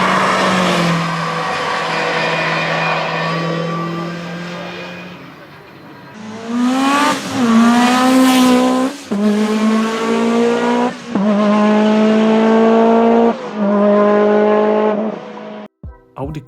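Lancia Delta S4 Stradale, the Group B road version, with its engine revving in loud climbing and falling sweeps, several rising pulls in a row, up close with no talking.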